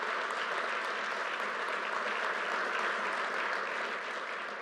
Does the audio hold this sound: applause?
yes